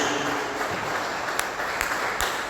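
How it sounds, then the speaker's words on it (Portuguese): A church congregation applauds, a dense continuous wash of many hands clapping at moderate distance, steady throughout with a few sharper individual claps standing out. "Uma salva de palmas para Jesus."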